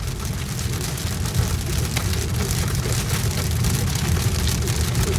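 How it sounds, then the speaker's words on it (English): Hail pelting a car during a drive home in an intense storm, a dense steady drumming of many small impacts on the body and glass over low road rumble, loud and continuous throughout. "The hail got very intense"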